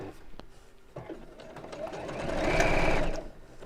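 A sewing machine stitches a fabric bag, a quiet start then a rapid buzzing run that swells louder and stops, with brief mechanical clicks and a voice speaking alongside.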